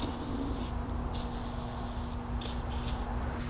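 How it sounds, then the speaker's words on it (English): Penetrating oil sprayed from an aerosol can onto fasteners on a Mini Cooper S R56 front end, a soft steady hiss with a faint hum beneath and a couple of brief spurts near the end. "remember when I said I'd hit these with some penetrating oil?"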